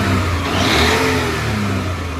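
The gas-powered engine of a Maruti Omni van revs steadily after a gas pickup fault is fixed, with a loud, close, sustained mechanical drone that swells slightly midway, and no voices.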